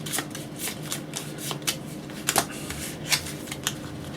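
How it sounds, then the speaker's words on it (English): Marvel Champions game cards being shuffled by hand, a close, steady run of rapid riffling bursts and soft card slaps with no talking. "Shuffle your deck."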